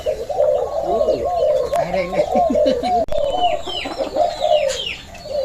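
Soft, throaty cooing from doves in a mixed cage repeats steadily, with other birds calling and clucking nearby in an enclosed space.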